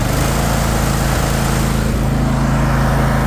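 The engine of a Troy-Bilt Mustang XP 50-inch zero-turn riding mower runs loud and close, holding a constant droning hum with a slight shift in tone partway through. No one speaks.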